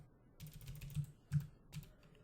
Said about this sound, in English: One thing that you'll note is that I'm typing all of this.